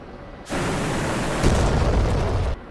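A missile from a Ka-50 Black Shark attack helicopter in a flight combat simulator detonates close by, a sudden broad roaring blast that swells louder midway and holds for about two seconds before cutting off sharply.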